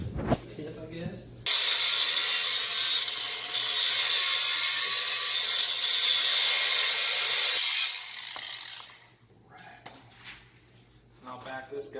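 A nut is spun back off a freshly cut threaded stud with a wrench, giving a steady, loud whirring-ratcheting buzz for several seconds before it slows and stops, with quieter handling noises either side.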